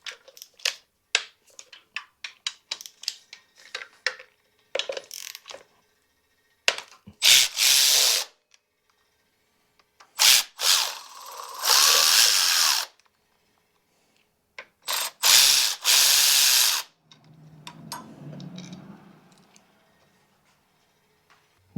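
A ratchet clicks rapidly while removing the accessory belt tensioner from a Toyota 2JZ engine taken out of a Datsun, with close bursts of ticking, several longer loud stretches of turning, and metallic clatter between them.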